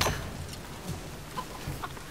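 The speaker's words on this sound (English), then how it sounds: "Hold still chicken." A chicken clucks in the Tomb Raider video game, a few short, clipped clucks scattered over soft rustling ambience, fairly close and moderately loud, with no voices.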